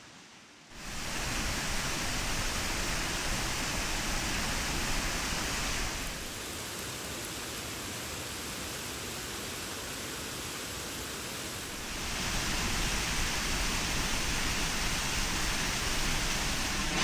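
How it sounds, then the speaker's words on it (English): A distant waterfall across a valley at Sandankyo gorge in Japan sends up a steady, broadband rushing roar, continuous and even throughout with no voices, dipping slightly in level midway before swelling back. "Can you see that really beautiful waterfall just on the other side of the valley?"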